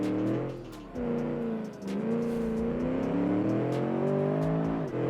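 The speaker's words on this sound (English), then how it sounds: "Realistic engine." A city sports car engine in a car-driving game revs steadily, its tone rising and falling through throttle changes, loud and close with no talking.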